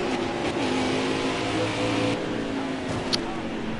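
A race car engine roars steadily in the NASCAR Heat 4 video game while the car is performing badly. The loud engine hum holds throughout with slight pitch shifts, and a voice talks over it.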